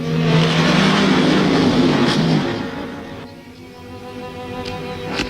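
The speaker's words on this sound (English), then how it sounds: "I hear a car." A car drives past outside, a broad engine and road roar that swells loudly at first, then fades away into quieter background noise, with no one talking.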